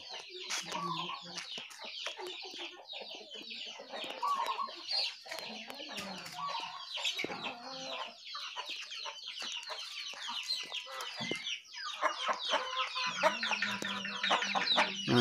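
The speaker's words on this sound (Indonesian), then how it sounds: "Ini ada sekitaran 50 ayam." Many chickens clucking and cackling inside a coop of about fifty birds in a rural village, a dense, continuous chorus of overlapping clucks at close range with busy rustling.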